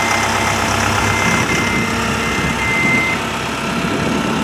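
The engine of a Vermeer D23x30 S3 horizontal directional drill runs steadily at idle, a loud, constant mechanical drone with vibration and no talk over it.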